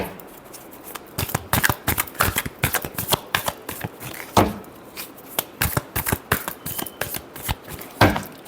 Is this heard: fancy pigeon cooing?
no